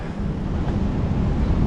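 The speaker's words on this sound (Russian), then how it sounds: "Волны бушуют" Stormy sea waves surge against the Yalta shore in Crimea in winter, a loud, continuous broadband roar of churning water mixed with wind buffeting the microphone, with no voices.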